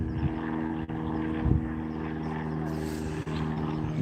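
A light propeller aircraft climbing out on the takeoff pattern from Montgomery Field: a steady, droning engine hum with strong low harmonics holds throughout, with faint voices and outdoor noise underneath.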